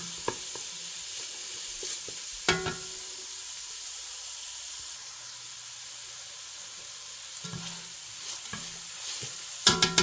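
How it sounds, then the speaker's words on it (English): Garlic and chilli frying in a pan of onions for pork adobo, a soft steady sizzle with occasional sharp scrapes and clinks of a utensil stirring, fairly quiet and close. "We'll put our garlic and chilli back in. Just keep it moving, keep it stirring."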